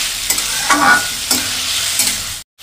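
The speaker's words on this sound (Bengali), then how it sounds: "এখন সবজিটাকে একটু নাড়াচাড়া করে একটু নুন দিয়ে দেব।" Boiled vegetables for pasta are stirred in a hot pan, several close scraping strokes over a steady sizzle before a sudden cutoff at the end.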